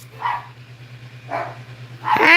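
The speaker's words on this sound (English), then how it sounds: "Cue the dogs." Two dogs bark indoors, three separate bursts spaced about a second apart, the last louder and harsher, over a faint steady electrical hum.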